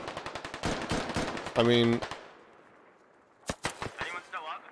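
Rapid machine-gun fire in the military shooter game Squad rattles in quick bursts at the start and again near the end, with someone talking between the volleys.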